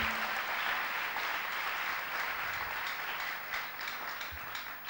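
A church congregation applauding at a prophet's sermon, with a dense, steady wash of clapping that holds throughout and tapers slightly toward the end.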